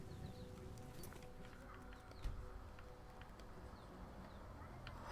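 Hooves of a horse in Skyrim clopping softly and steadily at a distance, faint beneath a constant wash of in-game ambience, with one brief louder knock partway through.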